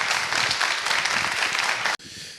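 Audience applause for a speaker at a live talk, dense steady clapping at close range that cuts off abruptly near the end, leaving quieter room noise.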